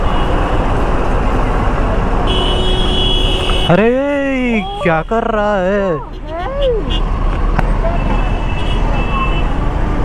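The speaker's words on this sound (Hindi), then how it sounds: "अरे बहुत ज़्यादा ट्रैफिक।" Heavy, congested road traffic rumbles steadily throughout with engine drone and distant horns, while people talk loudly over it in the middle of the stretch.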